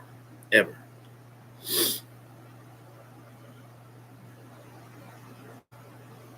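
A sharp sneeze bursts out, followed by a second breathy sneeze-like burst, over a low steady hum; a voice speaks briefly.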